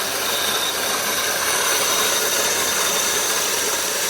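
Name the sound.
Vevor electric grain mill grinding wheat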